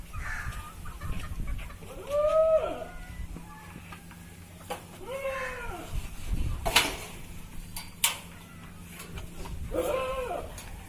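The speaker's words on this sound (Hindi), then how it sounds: "देसी मुर्गे हैं।" Desi chickens and other farm animals call out in a village farm setting, with several loud bleating, clucking cries spaced apart over quiet ambient noise and some distant talk.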